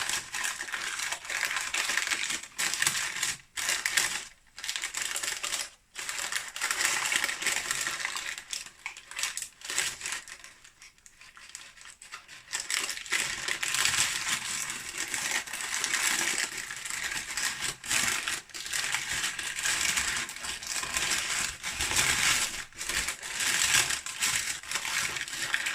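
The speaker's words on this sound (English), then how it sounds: "carefully peel the top paper off." Baking paper slowly peeled off vegan banoffee pie dough: a long, close crackling and crinkling rustle, nearly continuous with brief pauses, with no voices.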